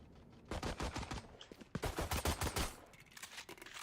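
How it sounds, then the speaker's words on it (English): Rapid bursts of gunfire exchanged during a Valorant esports match, sharp overlapping shots in quick clusters, loud and close, with a few brief pauses between volleys. "Gunshots are exchanged."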